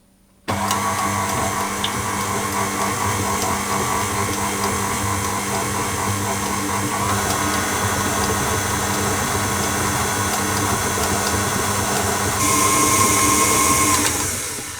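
Electric mixer working pastry dough for inverse puff pastry, a steady motor whine starting abruptly after a brief silence, holding on low speed, then rising in pitch and loudness near the end as the speed increases.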